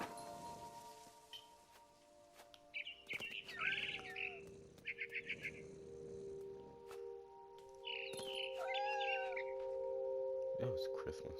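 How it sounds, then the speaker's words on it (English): A barn swallow in What Remains of Edith Finch chirps in two quick bursts of bright twittering, separated by a pause, over a soft sustained ambient tone. "Then I heard chirping outside my window. It was a barn swallow going back to her nest."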